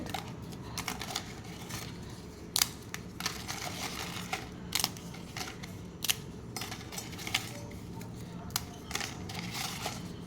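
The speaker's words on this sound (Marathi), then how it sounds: "पापड भाजून झालेले आहेत आता त्याचे आपण तुकडे करून घेऊया मोठेच तुकडे करायचे" Roasted papad snapped by hand into large pieces, a string of sharp, dry crackles and crisp breaks up close over a steady background hiss.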